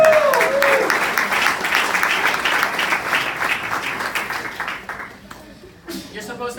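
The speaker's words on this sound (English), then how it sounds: "Big round of applause." An audience applauds a sales promotion, giving a full, lively round of clapping that tapers off toward the end, with voices mixed in.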